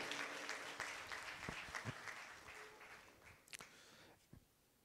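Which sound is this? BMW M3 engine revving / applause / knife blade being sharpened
applause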